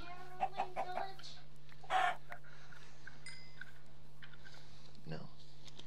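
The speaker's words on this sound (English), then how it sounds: "I'm hearing more clucking." Minecraft chickens cluck in a few short bursts early on and again near the middle, with a faint cluck later, over a steady low game hum.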